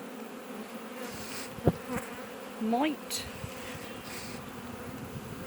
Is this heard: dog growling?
no